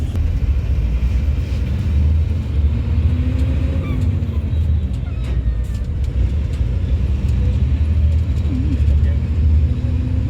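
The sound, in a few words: bus or vehicle engine rumbling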